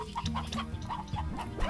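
Hens cluck steadily in the video game Slime Rancher, a busy overlapping flock of short clucks and squawks heard up close with no talking.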